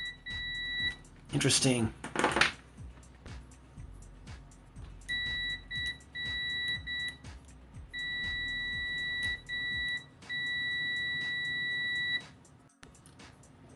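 A UNI-T UT15B PRO multimeter's continuity beeper sounds in a series of short and longer high-pitched beeps at close range, interspersed with clicks of probe contact and a brief burst of rustling, with a single spoken word.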